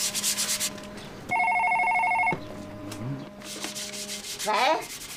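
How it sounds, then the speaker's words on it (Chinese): A telephone rings indoors in a single sustained electronic burst of about a second, set among rubbing and scraping household noises. "大概是陶汉来电话了"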